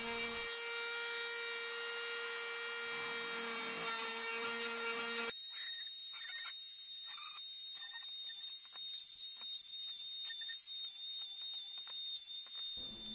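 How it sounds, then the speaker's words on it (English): A router rounding over the sharp edges of a pallet wood wine rack, a steady loud high-pitched whine for about five seconds, then a sharper shifted tone with intermittent scraping and rubbing of the bit against the wood. "I use the router again to put a round over on any sharp edges on the whole of the wine rack."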